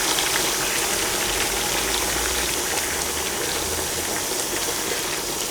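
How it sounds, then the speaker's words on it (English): Boiled hot water from a kettle pours into a pot of Cantonese lamb stew, a steady broad gushing hiss that runs unbroken and close throughout. "we can add in 1 kettle of hot water,"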